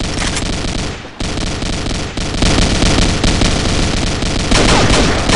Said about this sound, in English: Were you shooting at him?